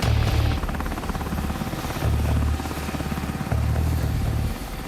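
Steady rhythmic thumping of a helicopter's rotor blades, loud and continuous, with a heavy low chop that swells a few times as it flies.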